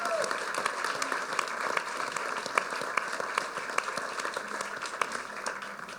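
An audience applauds deputy heads at a formal gathering, a continuous mid-level patter of many hands clapping throughout, with a few sharper claps standing out.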